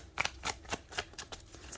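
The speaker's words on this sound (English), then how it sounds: "So I'm going to shuffle them again" Tarot cards are shuffled by hand in quick, close, rhythmic bursts of papery riffling, about eight strokes in under two seconds with no talk.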